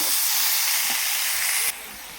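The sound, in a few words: paste of cumin, mustard and ginger sizzling while being fried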